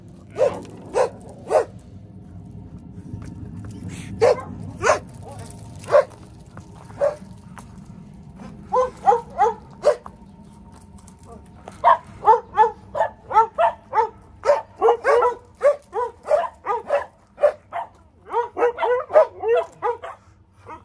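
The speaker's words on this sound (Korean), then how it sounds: "숙희야 그렇게 짖는 법을 배워야지" Several dogs at a puppy training and agility school bark through a morning session, starting with scattered single barks over a low rumble and building into dense, rapid overlapping barking from multiple close animals.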